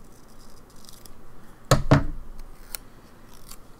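Scissors snip through paper for a memory planner, two close crisp cuts in quick succession followed by a faint rustle, alone in a quiet room.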